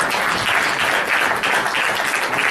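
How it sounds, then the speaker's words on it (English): Audience at a formal closing ceremony giving a round of applause, a dense, loud wash of many hands clapping at once, steady and continuous across the short stretch. "May we have a good round of applause for her."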